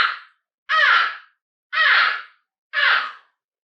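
Crow cawing, the black bird as it appears in a film, heard as three loud, harsh caws evenly spaced about a second apart, plus the tail of an earlier call, with silence between.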